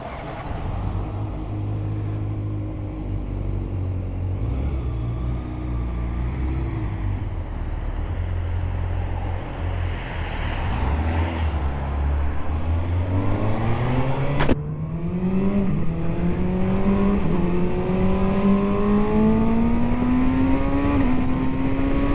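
A motorcycle engine runs loud and close throughout, holding a steady idle-like drone before revving up into a long, rising acceleration whine as the bike pulls away, with no talking.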